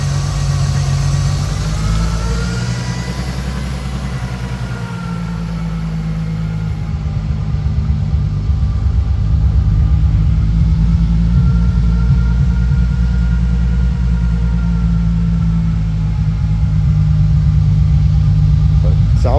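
A 1994 Nissan Skyline with an aftermarket turbo and downpipe idles after a cold start, giving a loud, steady, close engine rumble with low vibration that runs throughout, and a voice is heard briefly over it.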